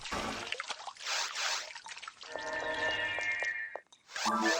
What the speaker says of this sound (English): Enjoy the water ASMR.